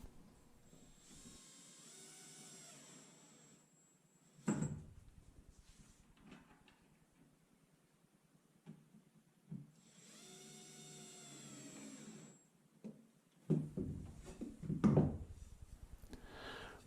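Power drill driving 1 1/4-inch screws to fix a jig to a workbench while building a Layens hive: two separate whirring bursts of roughly three seconds each, separated by quiet, with a few sharp knocks afterward.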